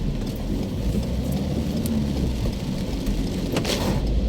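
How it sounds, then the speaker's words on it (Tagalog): Steady heavy rain drums on a bus on EDSA while an engine hums underneath, with a few sharper splashes and drips. "Napakadami ng ulan."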